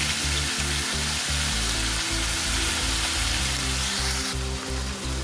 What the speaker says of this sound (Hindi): अब प्याज को हम कलर चेंज होने तक भूनेंगे।